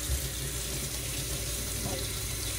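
Tap water running steadily to rinse a dry potted orchid, a broad continuous splash close by with no talk over it.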